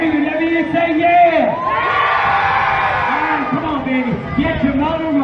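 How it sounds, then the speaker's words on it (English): A wild, boisterous crowd cheers, whoops and yells continuously at a Miss America 2018 event before an Iron Thunder motorcycle ride, with shouting voices rising and falling close by throughout. "I can hear that this is a wild crowd"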